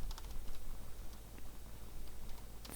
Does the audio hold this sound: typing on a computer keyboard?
yes